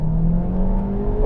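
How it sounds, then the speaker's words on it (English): Honda Civic Type R Limited Edition turbo engine revving hard under acceleration, a loud, steady rising drone with climbing harmonic whine, heard up close with no talk. "This turbo engine revs up to 7 and it's so strong."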